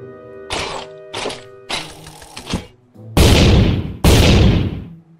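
Several loud gunshots from a game, a few sharp cracks followed by two heavy booming blasts that ring out briefly, with no talking.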